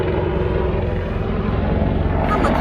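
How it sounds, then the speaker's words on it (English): A helicopter flies overhead, its loud, steady low rotor and engine rumble filling the whole stretch without letup. "Helicopter."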